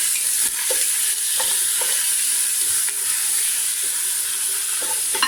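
Veal with bones stirred in a soup pot over the heat, a loud, steady sizzle with repeated scraping and knocking from the spoon, close up and without voices.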